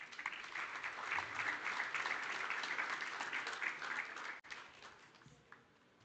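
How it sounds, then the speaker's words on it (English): Audience applause at the Namibia Oil and Gas Conference 2025: a hall full of steady clapping that holds for about four seconds, then breaks off and trails into scattered claps and faint room noise. "Please give a warm round of applause."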